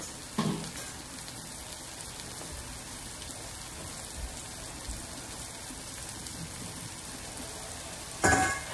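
Sausage frying in a pan gives off a steady, soft sizzle and crackle that holds evenly throughout, with a couple of brief louder clatters near the start and end.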